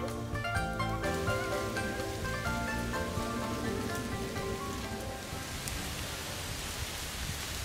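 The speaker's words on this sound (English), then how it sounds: "The next morning, rain." Steady rain falling on a rainy morning in Hong Kong, a dense broadband hiss of drops on surfaces, continuous and fairly close, with no voices.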